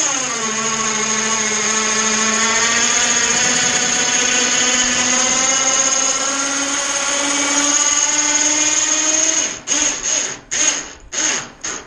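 A battery-powered electric gate operator strains to lift a heavy trailer gate, its motor whining steadily with a pitch that slowly rises and then stutters into short bursts as it stops and starts.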